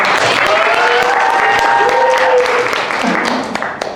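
Loud, steady applause from an audience at a university lecturer certification session, continuous clapping with some crowd murmur and a tonal sound over it, easing slightly at the end.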